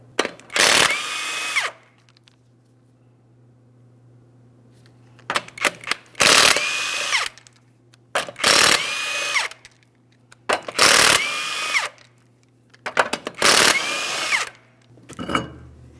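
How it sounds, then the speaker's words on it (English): Impact wrench spinning off the five 21mm lug nuts on a raised wheel of a 2003-2008 Toyota Matrix, with five loud bursts of whirring and rattling separated by pauses and a steady low hum between them. "we're going to remove all 5 of our 21mm lug nuts and the wheel"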